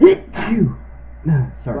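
A single short sneeze bursts out at the start during a tabletop fantasy role-playing session, followed immediately by people talking nearby.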